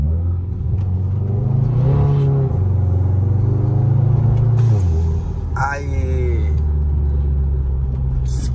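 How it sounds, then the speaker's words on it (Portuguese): Car engine idling and rumbling nearby on a street by a bus stop, a low steady drone that swells twice as it revs, with a brief spoken word over it. "Olha o ronco da nave, tio."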